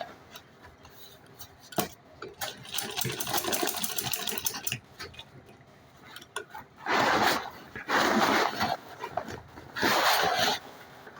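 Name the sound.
sewing machine stitching a travel bag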